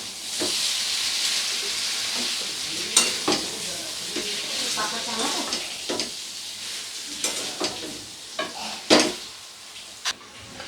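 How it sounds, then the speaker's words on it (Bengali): Steamed taro stolons and prawns sautéed with spices in a pan, a bright continuous sizzle and hiss with repeated clattering scrapes of the spatula throughout. "এখানে দিয়ে দিচ্ছি ভাপিয়ে রাখা লতিগুলো দিয়ে খুব ভালো করে একবার কষিয়ে নেব মশলার সাথে"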